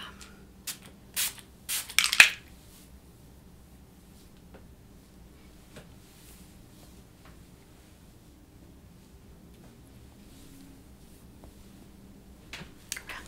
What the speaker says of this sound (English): So just spraying around your aura.